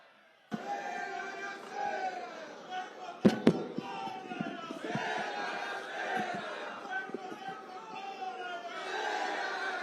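A large crowd at a political rally shouts back a chant in loud, surging bursts, answering a leader's voice over a microphone, with claps and thumps mixed into the roar.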